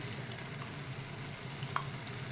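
Chicken and potato curry frying in a pan with salt, a soft, steady low sizzle with a faint bubbling undertone and one brief utensil tap; no talking.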